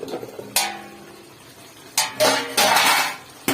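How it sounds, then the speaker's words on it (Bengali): A metal lid lifted off a pot of simmering potatoes, a sharp clang followed by several clattering knocks of lid and utensils against the pan, close and loud with no talk. "এবার বন্ধুরা দেখি ঢাকাটা খুলবো"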